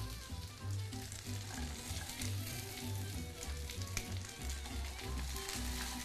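Slices of sucuk sausage and halloumi cheese sizzle in a frying pan, a soft, steady crackling fry that stays even and fairly faint throughout.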